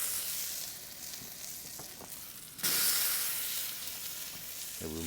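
Tomatoes frying face down in butter on a grill, a steady loud sizzle that swells sharply midway as more hits the hot surface, with light scraping.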